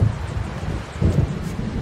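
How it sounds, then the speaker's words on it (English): Thunder rumbles low and heavy in the Alan Wake game, with a steady wash of rain and wind beneath it and a second swell of rumbling partway through. "It seems there's a storm coming."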